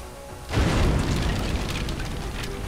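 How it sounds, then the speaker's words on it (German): In the video game XCOM: Enemy Within, a tank explodes with a sudden loud boom that swells into a rumbling, crackling roar and lingers for a couple of seconds. "Panzer explodiert halt einfach mal von 3 Schüssen."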